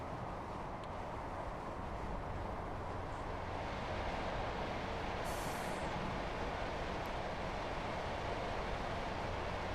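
A Class 158 diesel train slows in the Train Sim World 4 game, giving a steady, broadband rumble and rolling noise that stays even and moderately loud throughout, with no talk.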